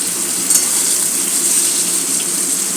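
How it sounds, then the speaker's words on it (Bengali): Eggplant fries in oil with a loud, continuous close sizzle, steady and unbroken throughout. "এইবার আমি বেগুনগুলোকে ভেজে নেব"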